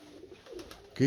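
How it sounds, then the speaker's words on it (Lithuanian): Birds call outdoors with a soft, pigeon-like coo that swells into a louder, nearer burst at the very end of a brief moment. "o paukščiai kvailioja"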